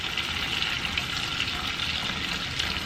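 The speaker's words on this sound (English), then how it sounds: "we're going to cook the onion until it's like a nice translucent color" Onion frying in a pan for garlic shrimp, a steady close hiss and crackle of sizzling oil that holds an even level throughout, with no talking.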